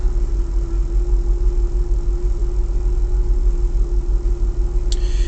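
A Land Rover P38 engine idles steadily with a low, even rumble and a faint tonal hum, ending with a brief high click.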